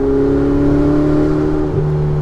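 A Ferrari 488 Spider pulls in fifth gear with a steady, loud engine drone and a tonal hum from inside the cabin, holding nearly constant throughout.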